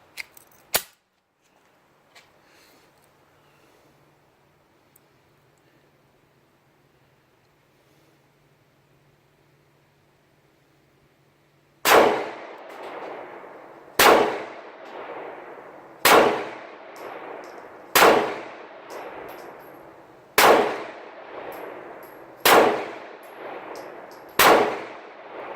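A Sky CPX2 pistol fires ten rounds at steel targets outdoors, each sharp bang followed by a ringing metallic clang, spaced in an uneven steady rhythm after a quiet stretch with a few faint clicks.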